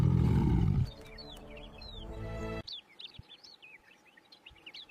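A weakened lion gives a feeble, hoarse rasping roar out on open plains, a short loud burst at the start that fades away. Scattered bird chirps and calls follow in the quiet afterward.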